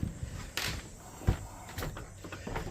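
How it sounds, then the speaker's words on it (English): A storm door on a house's back stairs is handled, giving a few faint knocks and a quiet thump in the middle over a soft room background. "So then you got this storm door here"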